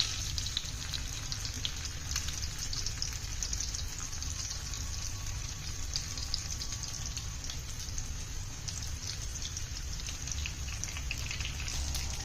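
Semolina and potato snack pieces deep-frying in hot oil, giving a steady, dense crackling sizzle that holds at an even level throughout with no voices.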